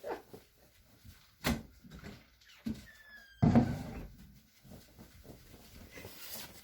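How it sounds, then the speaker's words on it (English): An open door knocks and rattles in a room with a few sharp thumps and a brief creak, the loudest bang near the middle, along with faint rustling and movement around it. "The door is open and is making some noise."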